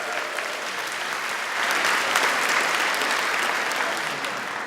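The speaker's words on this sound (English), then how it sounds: "Let's give the millennials a round of applause." Steady audience applause fills a conference hall after a humorist speaker's cue, swelling slightly midway and holding as a dense wash of clapping with no voices over it.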